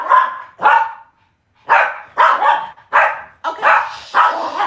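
Several dogs bark repeatedly while playing hard, a loud close series of about eight sharp barks in quick bursts with a brief pause near the start.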